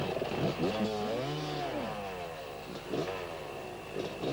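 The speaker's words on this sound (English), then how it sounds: "Martin Karas of Czechoslovakia with the Husqvarna, battling bravely through." A Husqvarna enduro motorcycle races through a course at the 1991 World Enduro Championship in Finland, its engine close and loud, revs sweeping up and down as it powers along.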